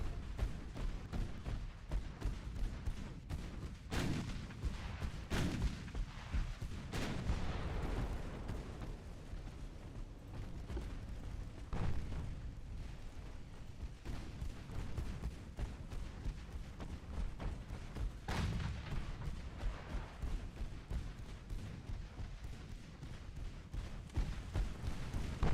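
Naval guns firing in a video game sea battle, a continuous barrage of booming blasts and rumbling thuds layered over one another, loud and dense throughout with sharper bursts standing out.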